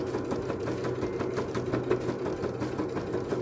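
A sewing machine stitching straight quilting lines over the seams of a patchwork placemat, a steady close whirring with rapid rhythmic needle ticks running without pause.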